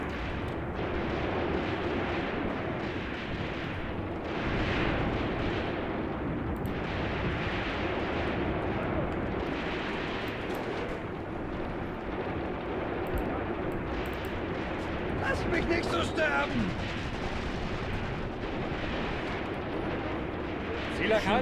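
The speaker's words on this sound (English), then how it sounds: "Machine gun's still trying to hit those officers at range." Gunfire clatters in a WWII Eastern Front strategy video game, with a machine gun firing among distant booming explosions and someone talking over the steady battle.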